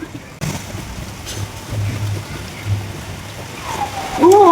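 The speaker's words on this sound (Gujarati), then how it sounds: "હા, પાછો વરસાદ શરૂ થઈ ગયો છે." Rain falls in Bhavnagar during a heavy downpour with hail, a steady broad hiss after a sudden onset, with a faint whistling tone near the end.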